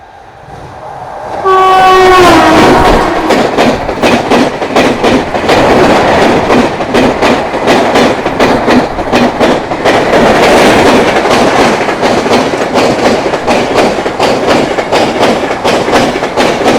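Heavily delayed Jasidih–Tambaram weekly express on the Howrah–Chennai main line passing at high speed, opening with a loud horn blast, then a roaring, continuous rush of wagons with rapid clickety-clack close by.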